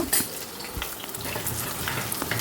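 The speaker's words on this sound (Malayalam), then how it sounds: "ആദ്യം തന്നെ നമുക്ക് വറ്റൽമുളക് ഇടാം കേട്ടോ വറ്റൽമുളകൊന്ന് ക്രിസ്പി ആയിക്കോട്ടെ" Dried red chillies fry in hot oil for a tamarind dish, giving a close, crackling sizzle with small pops and a light stirring clatter throughout, no talking.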